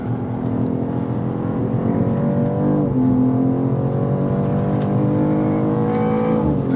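A BMW M2 G87 accelerating hard on a racetrack, its engine note loud and close, climbing steadily through the revs with a brief dip at a gear change and no talking over it.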